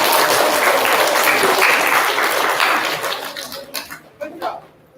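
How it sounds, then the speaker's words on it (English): Children in a fourth-grade class clap together in a dense, lively burst that thins out into scattered claps near the end, with some voices mixed in. "Can we clap on Mrs. Cooper?"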